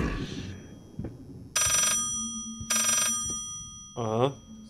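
Two bright electronic telephone rings from the horror game Layers of Fear sound in quick succession after a muffled thump, with a voice coming in near the end.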